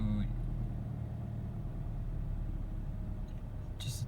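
A Toyota GT86 with its FA20 engine idles after start-up as the revs settle lower, a steady low engine drone faintly heard under a speaking voice, with a brief sharper noise near the end.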